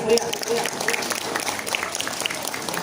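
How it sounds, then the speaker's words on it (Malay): Audience applause at a night Qur'an recitation competition (MTQ) in a village, a steady patter of many hands clapping at moderate level throughout, with some voices mixed in. "Mohon tepuk tangan yang meriah."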